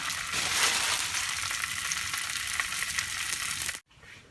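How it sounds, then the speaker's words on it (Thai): Frozen roti fries in a hot pan, sending up a loud, close, hissing sizzle that holds steady and then cuts off abruptly near the end. "ออกจากช่องแข็งแล้วทอดได้เลยค่ะ"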